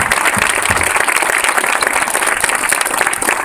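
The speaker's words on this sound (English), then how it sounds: "let's give a round of applause to everybody who has preceded me here on this afternoon" Loud sustained applause from a crowd at a political event, thick continuous clapping with slight swells, no speech on top.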